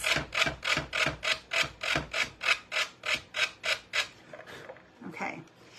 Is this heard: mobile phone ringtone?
no